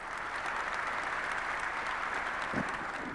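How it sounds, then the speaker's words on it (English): Applause from a conference audience at the Africa Investment Forum 2024, an even, sustained patter of many hands clapping at moderate volume from a little distance, with no voices over it. "As the new founding member, kindly give him a round of applause."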